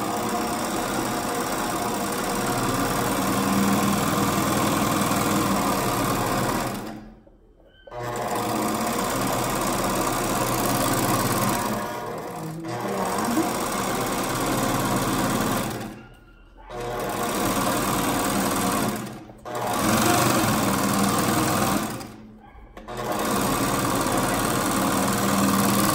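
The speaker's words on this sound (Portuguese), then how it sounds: "A primeira costura eu vou fazer na overlock, que ela já corta para mim." An overlock machine sews and trims a seam on children's dress fabric, running in loud, steady whirring bursts separated by four brief pauses.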